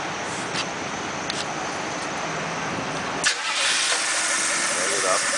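A clean Ford-powered car engine cranks and catches around the three-second mark, then settles into a steady idle close by, with no talk over it.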